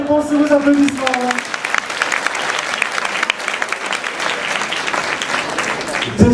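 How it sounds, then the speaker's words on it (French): Audience applause at a quiz game, breaking out after a correct answer; a voice speaks briefly at the start, then dense, steady clapping fills the rest and stays loud throughout. "Barack Obama, bonne réponse, sous vos applaudissements."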